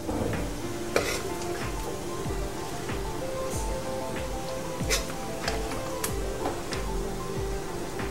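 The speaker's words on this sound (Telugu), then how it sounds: "ఇప్పుడు చికెన్ కర్రీ కూడా మనం ఇట్లా వేసుకుందాం." Chicken curry is spooned onto biryani layers in a pot, with soft sizzling, scraping and stirring and occasional sharp clinks of utensil against metal, all fairly quiet and close.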